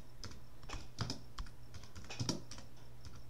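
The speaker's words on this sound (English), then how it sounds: "add a comma, and type hello." Fingers tap out a short burst of typing on a computer keyboard at a desktop, with quick irregular clicks and key presses heard up close and fairly quiet, without anyone speaking.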